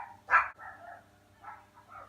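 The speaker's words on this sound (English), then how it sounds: "That was my dog." A dog barks outside a window, one sharp loud bark followed by a few softer, muffled yips and whines at middle distance in an otherwise quiet room.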